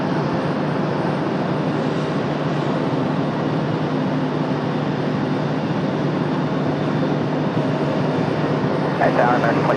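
An American Airlines Airbus A321 jet taking off at Raleigh-Durham International, a continuous loud engine roar sustained steadily from a moderate distance, with voices present.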